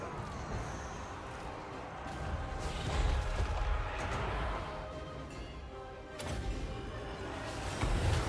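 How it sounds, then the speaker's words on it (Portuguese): Explosions and artillery fire from the Total War: Warhammer 3 video game rumble on at moderate volume in a dense, continuous battle barrage, with heavier booms swelling around the middle and near the end. "explosão"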